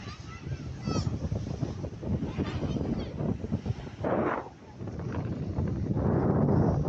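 Strong wind buffets an island in Krabi, a steady broadband roar with gusty surges, loudest near the end, while people talk over it.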